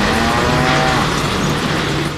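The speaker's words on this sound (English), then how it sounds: "What? A cow?" A cow moos in the Deadpool video game on Genosha, a drawn-out bovine call laid over steady game background noise and a droning engine-like hum, loud and close for about two seconds.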